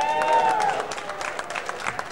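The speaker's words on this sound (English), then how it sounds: "So for that, applaud yourselves." An audience at the WaleMania live event applauds steadily, with a brief raised voice at the start, then dense clapping that carries on to the end.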